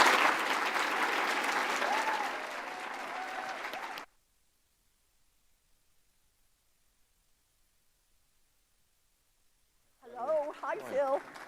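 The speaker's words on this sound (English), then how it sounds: "So let's give a big round of applause." Audience applause for a senator at a transit association legislative event, a dense burst of clapping for about four seconds that cuts to silence before a voice begins speaking.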